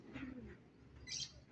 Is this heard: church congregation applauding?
no